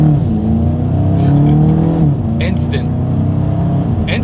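A 2021 VW Golf GTI accelerating hard down a straightaway with quick paddle-shift gear changes: a loud, close engine drone that rises in pitch, drops briefly at a shift, and keeps pulling, with a voice talking over it.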